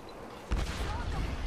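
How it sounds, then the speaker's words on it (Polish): A sudden explosion bursts out in the Tomb Raider video game, a loud low boom arriving after a quiet stretch and rumbling on for a second with a crackling tail. "Coś tak nagle wybuchło."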